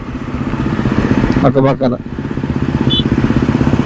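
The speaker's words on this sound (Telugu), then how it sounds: "ఈ బైక్ ఓల్డ్ మోడల్ బైక్." An old-model motorcycle at the Shilparamam arts and crafts village in Hitech City, Hyderabad, idling nearby with a steady, rhythmic putter of regular pulses, while a person briefly speaks over it.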